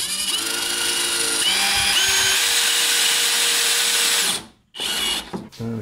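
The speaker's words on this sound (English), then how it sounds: "and drill it in" A power drill drives a screw into wooden furniture, whirring steadily for about four seconds, its pitch shifting slightly as it bites, then stops, followed by a few short clattery bursts.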